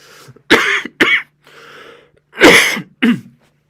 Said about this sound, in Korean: 아까부터 계속 기침이 나와서